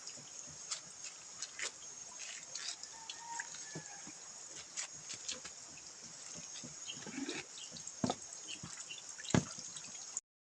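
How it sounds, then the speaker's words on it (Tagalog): Water dripping from an outdoor tap used for laundry, irregular sharp drips and small splashes over a steady hiss, fairly close and faint, with no talking. "Maglalaba tayo dito sa gripo."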